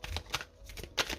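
Tarot cards being drawn and handled, a quiet close series of papery flicks and slides with a few sharper snaps.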